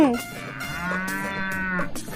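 A cow lets out one long, drawn-out moo close by, rising and sustained for well over a second before trailing off, with no talking over it.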